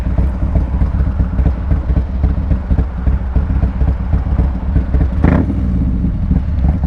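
Harley-Davidson Street Glide engine running with a deep, steady low rumble and pulsing throb, loud and close throughout, with a brief higher burst of noise near the end and no speech.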